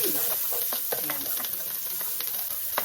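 Onions frying in a hot pan give a close, steady sizzle and hiss with frequent sharp crackles and pops and intermittent stirring, without any speech.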